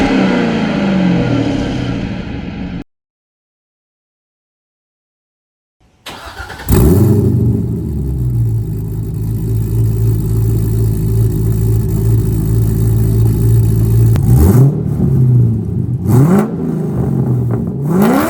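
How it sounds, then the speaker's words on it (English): A C6 Corvette fitted with a Speed Engineering exhaust, heard close and loud: a short rev, a few seconds of silence, then the engine starts and settles into a steady rumbling idle broken by a few sharp throttle blips. "Damn good sounding exhaust."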